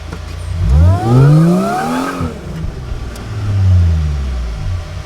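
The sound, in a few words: supercharged Mercedes SLK320 revving for a burnout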